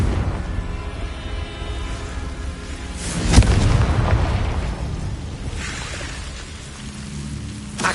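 Confringo fire spell explosion in the Hogwarts Legacy video game: one sharp loud blast bursts out, then trails off into a long rumbling, crackling wash of debris and ambience.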